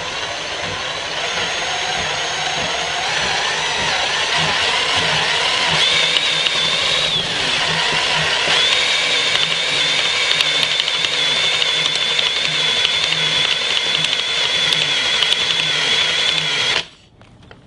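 A ceiling fan motor rigged as an alternator spins fast with a loud, steady mechanical whir and a thin whine on top. It runs unbroken for many seconds and then stops abruptly at the end.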